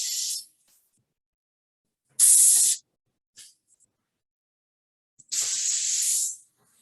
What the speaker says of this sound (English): we're gonna spray now to get.